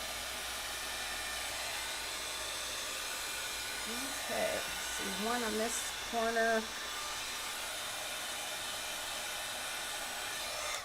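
A heat embossing tool blows a steady, loud hiss of hot air over a patriotic card stencil while someone speaks briefly over the constant whirr.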